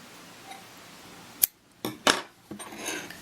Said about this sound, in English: I'm going to get my scissors and I'm going to cut the yarn.